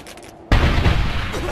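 A grenade explosion in the Medal of Honor video game goes off with a sudden loud boom after a short quiet moment, followed by a sustained rumbling roar and crackling debris.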